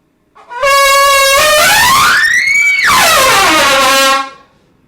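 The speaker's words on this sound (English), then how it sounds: "Let me honk." A loud, sustained horn blast with a musical, multi-tone quality that bends upward in pitch, then slides back down before cutting off; no voices.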